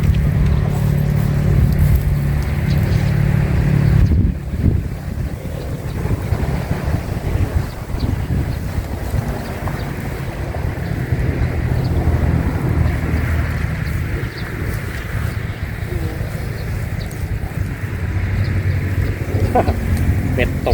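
Strong wind buffets the microphone outdoors beside a canal water gate under a cloudy sky, a steady low roar with gusts running throughout, while someone talks over it.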